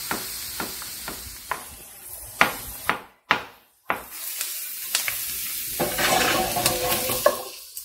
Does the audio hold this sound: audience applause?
no